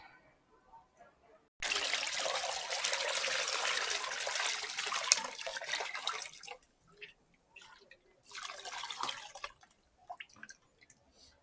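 Homemade coconut milk pours and trickles through a strainer in a steady splashing stream for several seconds, then stops, followed by a second shorter pour and scattered drips in a quiet room.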